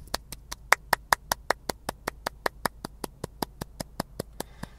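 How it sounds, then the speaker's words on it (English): A recorded clapping track plays a steady run of about twenty-five sharp single claps at an even rhythm, crisp and close, with no talking over it. "You can turn off the clapping track, please."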